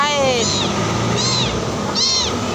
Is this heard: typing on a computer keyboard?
no